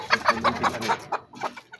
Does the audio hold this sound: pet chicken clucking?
yes